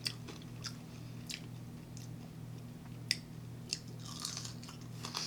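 Someone close by chewing chipotle sweet potato fries, with soft, irregular crunchy bites and mouth sounds over a faint steady hum, quiet and without talking.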